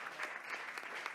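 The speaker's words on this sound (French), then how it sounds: "On applaudit bien fort." An audience at a closing plenary awards session applauds, a brief burst of dense, steady clapping from many hands.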